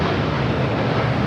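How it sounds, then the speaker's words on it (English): A United Airlines 787-9 Dreamliner takes off from LAX with a steady, broad engine roar, loud and continuous through the whole short stretch, with no talk. "This is United Airlines 231 taking off to London Heathrow on a 787-9 Dreamliner"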